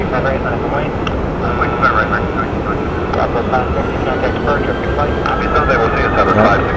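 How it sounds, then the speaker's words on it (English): An American Airlines Airbus A321 jet arriving at Phoenix Sky Harbor Airport makes a broad, steady roar with a faint rising whine. A voice talks over the engine noise. "Next jet on arrival is American 541 coming in from Tampa, Florida. It's an Airbus A321."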